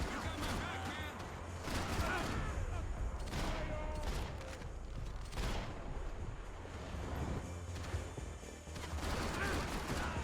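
Gunfire in the video game Max Payne 3 during a combat arena fight: dense, loud overlapping shots and bursts continue throughout, with impacts and crashes mixed in over a heavy game soundtrack.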